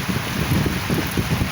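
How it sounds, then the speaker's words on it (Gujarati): Steady rain falling over farmland in Una taluka, a broad continuous wash of drops with some wind rumble, close and even throughout with no voices. "આપણે આજમાં વરસાદ ચાલુ થઈ ગયો"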